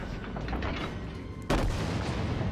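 Battleship cannons fire in the naval video game World of Warships, a single loud boom cutting in partway through over a constant rumbling background.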